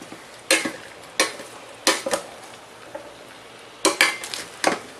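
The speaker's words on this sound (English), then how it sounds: "it says you're supposed to saute until the meat is no longer pink" Ground meat for chili sizzles as it is sautéed in a mini Instant Pot. A utensil scrapes and stirs against the pot in about six sharp strokes over a steady low sizzle.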